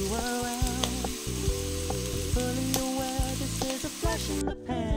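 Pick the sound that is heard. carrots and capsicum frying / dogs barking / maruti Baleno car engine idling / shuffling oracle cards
carrots and capsicum frying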